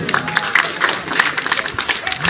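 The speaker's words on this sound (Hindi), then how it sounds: "जोरदार तालियों से" Crowd of villagers clapping steadily in welcome for arriving chief guests, including Abhay Singh Chautala, at a rural Haryana gathering; dense continuous applause with scattered voices mixed in.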